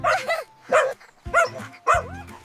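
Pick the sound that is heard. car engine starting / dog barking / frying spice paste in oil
dog barking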